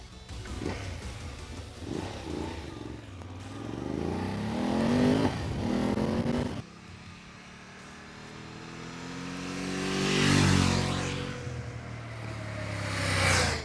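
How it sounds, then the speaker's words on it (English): A BMW F 750 GS parallel-twin motorcycle engine revs up and down in loud, rising and falling surges, with a brief drop to quieter idle midway before climbing again. "The parallel twin engine is smooth and there's a likable pull from the engine in the mid-range"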